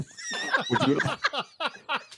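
Horses in a video game neigh and whinny up close in a quick series of choppy, rising and falling calls.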